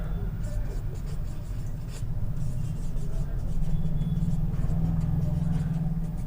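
Writing on a board, a run of scratchy strokes over a steady low background hum; a voice speaks faintly now and then.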